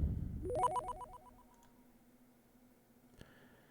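A synthesized sound effect built in the Vital synth, its pitch shaped by an LFO and trailed by delay: a loud burst of rising, repeating chirpy tones that quickly fades into a thin sustained echoing drone, with a faint click near the end.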